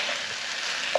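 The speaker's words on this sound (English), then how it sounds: "So just fry these off for a few minutes." Pork, peppers and mushrooms frying in a pan for spicy pork and rice, giving a steady, close sizzle with a brief pop near the end.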